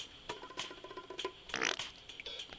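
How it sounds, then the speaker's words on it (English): A fart sound effect from the video game Terraria plays as a run of short, bursty blasts, with one louder, longer blast near the middle. Other game noise sounds faintly in the background. "I also have the fart enabled pack or whatever."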